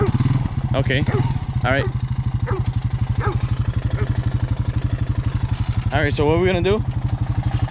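A Honda Rancher 350 ATV engine chugs steadily at close range with a rapid, even putter, its pitch swelling briefly when throttle is applied, while people talk over it.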